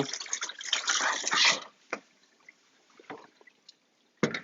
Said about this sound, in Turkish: Oktorossalar çözüldükten sonra suyunu süzüyoruz